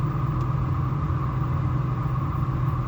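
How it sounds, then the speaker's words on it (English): An old-timey car idling nearby gives off a steady, continuous engine rumble with a low throbbing drone, loud and unbroken, heard alone without any talking. "The old-timey car darn making that noise?"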